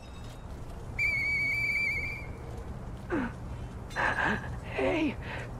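Murphy whistles in the video game Lies of P, one clear sustained note lasting about a second, followed by a few short breathy vocal sounds over a faint background hum.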